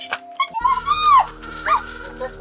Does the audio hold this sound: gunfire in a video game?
no